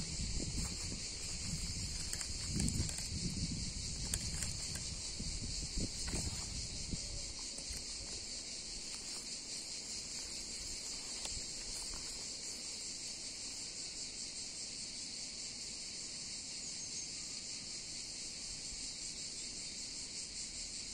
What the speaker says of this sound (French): Je laisse écouter les grillons, j'aime bien,